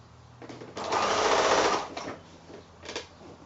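A sewing machine runs a quarter-inch seam through narrow quilt strips, a close mechanical whirr that speeds up into a loud steady burst for about a second, then slows into short stuttering stitches and brief pulses.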